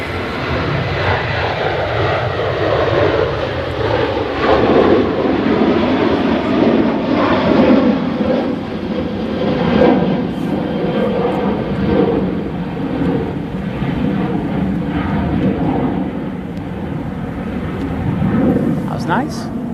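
A Ryanair Boeing 737 jet departs Manchester Airport for Treviso, its engines a loud, sustained roar that swells and lingers across the whole stretch while spectators talk over it.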